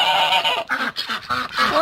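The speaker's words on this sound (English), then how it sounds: "Ducks sure are noisy." Farm ducks on a homestead quacking noisily, a rapid overlapping run of loud, harsh honking calls close by with no talking.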